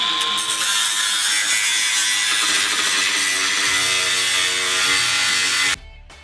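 A grinder cuts through vehicle control arms while a 5-inch Zone off-road lift is installed, a loud, continuous, close metallic screech that holds steady for several seconds before stopping abruptly.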